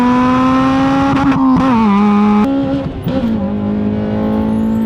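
An Acura RSX with a K-Series engine and manual transmission revs hard, its loud, buzzy tone climbing and dropping through several pitch steps as the throttle is worked, then holding a steady drone.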